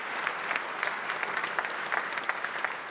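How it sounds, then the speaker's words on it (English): Audience applause at a Maastricht University anniversary ceremony following a dissertation prize announcement, steady clapping from a roomful of people, moderately loud and continuous with no talk over it. "Good clap."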